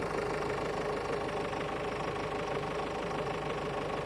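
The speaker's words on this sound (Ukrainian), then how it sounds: "рівна робота двигуна." A car engine with 236,000 km on it idles steadily at close range, a smooth, even hum with a faint regular pulse and no voices.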